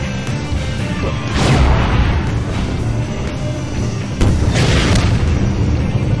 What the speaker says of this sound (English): That's a gunship thing. Reskinned gunship.